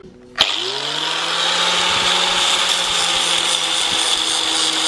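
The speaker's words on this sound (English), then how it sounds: "I'm going to tidy it up with a polishing disc" An angle grinder with a polishing disc tidying cut metal on an R32 steering mod spins up with a sharp start, then holds a loud, steady high whine up close for several seconds.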